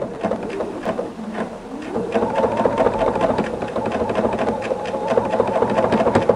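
Sewing machine running a zigzag stitch to couch yarn onto a quilt binding, a steady rapid mechanical patter that quickens and grows louder after a quieter start.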